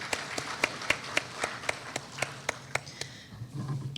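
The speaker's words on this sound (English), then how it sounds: "Let's give Mrs. Arlene Neal a round of applause for that presentation" Sparse applause after a presentation at an SSB Connect 2023 event for employers and employees: a few distinct, rhythmic claps ring out one by one, fading near the end.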